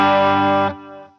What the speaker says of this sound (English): here's the amp without any effects